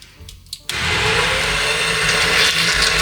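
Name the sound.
Ninja Foodi Power Mixer blending tomato soup on low speed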